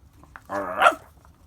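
A single drawn-out dog bark or whine, fairly close, rising then breaking off, with a short quiet stretch before and after.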